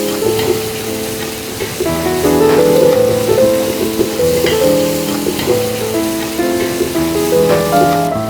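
Chicken pieces frying for a chicken biryani, a steady close sizzle with stirring scrapes over a busy, continuous crackle throughout, no talking.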